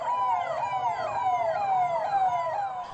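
Delhi Police cars drive with sirens wailing in a repeated sweeping pattern as they circle the Bangla Sahib Gurudwara. The siren is loud and continuous over a low traffic rumble.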